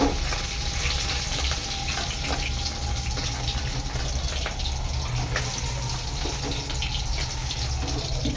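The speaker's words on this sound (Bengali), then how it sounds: "পনির ভাজা হয়ে গেছে, আমরা পনিরটা তুলে নেব।" Paneer fries in a pan, with a continuous, fairly loud sizzle and hiss holding steady throughout, close to the listener and without talk.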